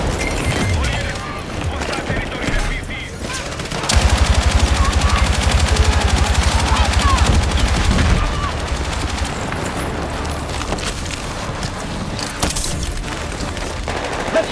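Machine gun fire in Battlefield 6 rattles in rapid sustained bursts, with a dense, loud stretch of continuous shooting in the middle, mixed with scattered gunshots, booms and indistinct talk.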